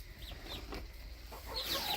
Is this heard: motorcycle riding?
no